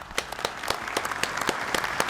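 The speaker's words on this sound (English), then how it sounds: "and they clapped." Applause from the audience at a NATO conference in The Hague, a dense, steady wash of many hands clapping at close range throughout, with no voices rising above it.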